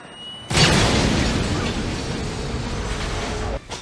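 Several ball grenades detonate in the video game Cross, merging into one loud, sustained, rumbling blast that roars for about three seconds before cutting off abruptly.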